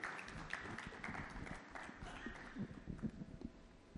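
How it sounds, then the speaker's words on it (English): Applause from the audience at a roundtable panel, greeting the panelists on stage. It is a dense, steady wash of many hands clapping that lasts the whole stretch, with some voices mixed in. "Let's have the biggest round of applause for all of these fabulous people here on stage"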